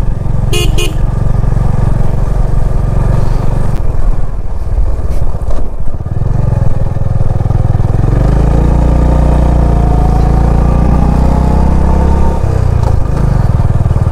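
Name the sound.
motorcycle riding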